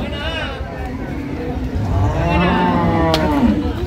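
Cattle low loudly and repeatedly at a busy rural livestock market beside a road in Dinajpur, Bangladesh, with long drawn-out moos over crowd chatter.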